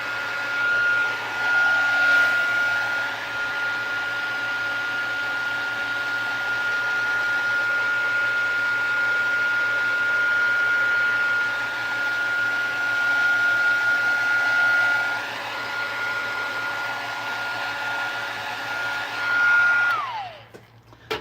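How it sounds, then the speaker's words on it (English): A hair dryer blows steadily on a journal cover, a constant loud whooshing hum with a thin high whine that holds for about twenty seconds before cutting off abruptly. "That's all I'm gonna put dryer to it because time is ticking away."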